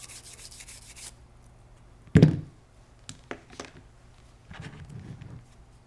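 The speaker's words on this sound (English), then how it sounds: "We can brush those out. Brush off the bolt rails." Debris being brushed off the bolt rails of a Benelli M2 semi-auto shotgun: a few short, close rubbing strokes with one louder scrape near the middle, then softer brushing against a quiet room.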